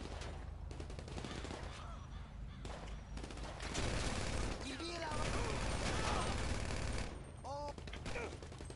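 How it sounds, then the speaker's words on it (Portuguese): Rapid bursts of gunfire in the video game GTA V Online crackle loudly over a busy, noisy background, with a few short voice-like calls breaking through. "como é que o cara aguenta uma rajada de tiro dessa e fica de boa?"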